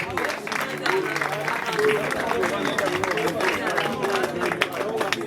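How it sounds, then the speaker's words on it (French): Guests at a customary wedding ceremony applaud and cheer with a sustained wash of clapping, mixed with voices calling out and crowd chatter underneath. "Sous vos acclamations encore, s'il vous plaît."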